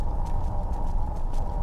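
Horse hooves clip-clop steadily in the video game Skyrim, a close, even trotting rhythm under a continuous low rumble.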